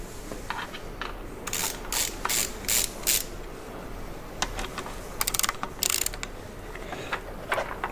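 Ratcheting tool loosening the windscreen screws on a Suzuki DL800 V-Strom motorcycle, with bursts of sharp rapid clicking separated by quieter handling noise, close and clear.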